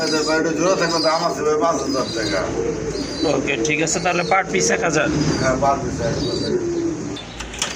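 Pigeons, including large white Danish pigeons, coo and flutter in a noisy loft while several people talk loudly over them throughout.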